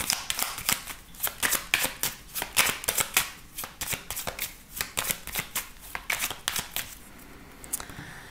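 A 32-card deck being shuffled by hand for a tarot-style reading: rapid, crisp riffling flicks in a steady rhythm, close and clear, with no talking over it.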